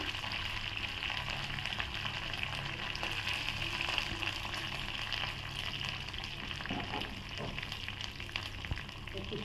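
Curry leaves and green chillies frying in hot oil give a steady, dense sizzle with crackling that holds evenly throughout, heard close with no voices.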